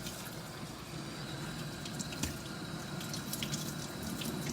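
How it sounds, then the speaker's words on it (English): Cool tap water runs at a salon sink to rinse a client's hair after balayage and foil colouring, a quiet steady trickle broken by small drips and splashes. "I'm using cool water to rinse."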